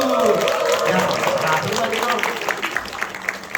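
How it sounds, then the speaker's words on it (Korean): Church gathering audience breaks into clapping during a children's Bible recitation event, applause mixed with voices and a speaker talking over it. "박수!"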